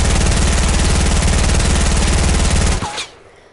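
SMG fire in the Fortnite video game, a loud rapid continuous burst of shots rattling for nearly three seconds before cutting off abruptly.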